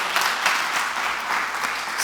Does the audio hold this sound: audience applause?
yes